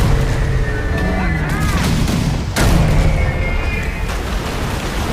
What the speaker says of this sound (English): my cannons fired from my port side, or my left side, firing again.